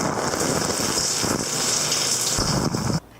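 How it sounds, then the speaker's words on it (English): A home shower runs with a steady broadband hiss of falling water, close and even, continuing for about three seconds before cutting off abruptly at the end. "So I decided to take a quick shower"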